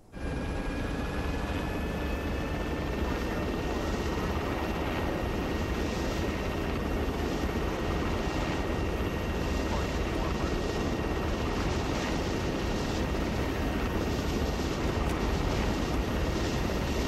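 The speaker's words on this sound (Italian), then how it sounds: "Ha sparato un elicottero." Helicopter in a military video game, a steady loud rotor and engine drone that fills the whole stretch without a break, with occasional faint voices over it.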